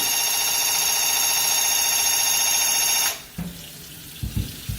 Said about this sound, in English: Once it's primed, switch it to spray and continue under the water stream.